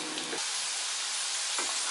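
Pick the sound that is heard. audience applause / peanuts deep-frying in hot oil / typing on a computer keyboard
peanuts deep-frying in hot oil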